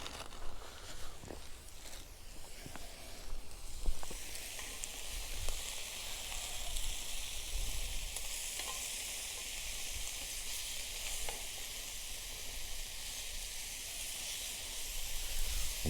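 Chopped peppers, onions and spring onions fry at an outdoor wild-camping pitch, giving a continuous, close, dense sizzle and hiss that builds after the first few seconds, with a few clatters and rustles early on.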